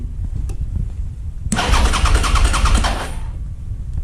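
A Suzuki SV650 motorcycle engine cranks over with a rapid, rhythmic chugging for about a second and a half, close and loud, then stops without catching, its fuel pump silent.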